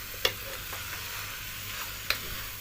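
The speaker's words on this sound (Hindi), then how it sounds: "बस सारी सब्ज़ी को अच्छे तरीके से हम मिक्स करेंगे।" A spoon stirs arbi (taro root) and baingan (eggplant) vegetable curry in a pan, with a faint steady sizzle under two sharp clinks of the spoon against the pan.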